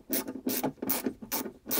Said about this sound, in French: j'ai dû prendre un embout avec un cliquet